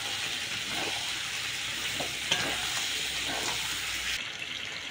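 Potatoes frying in a pan of Bihari-style chicken curry: a steady, close sizzle runs throughout with a few soft stirring clinks and a brief knock, cut sharply near the end.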